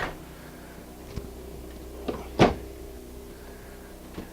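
The bathroom door in a 2016 Thor A.C.E. 29.3 Class A motorhome closes and locks, making a few faint clicks and then one sharper thud in a quiet interior.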